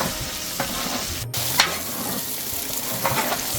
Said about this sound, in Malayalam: ഇനി ഇതെല്ലാം ഇവിടെ കിടന്ന് നല്ല മുരിഞ്ഞ് വരുന്നോടം വരെ നമുക്ക് ഇളക്കി കൊടുക്കാം